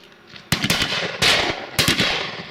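Shotgun fire at pheasants during a Dorset shoot, three loud close blasts spaced roughly evenly, each followed by a rough rumbling echo tail.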